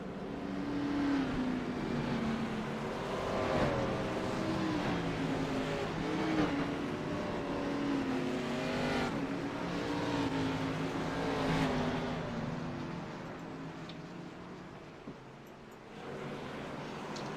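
A field of stock race cars at New Smyrna Speedway rolls past under caution behind the pace car, a broad steady engine roar rising and falling as the cars go by, fading toward the end.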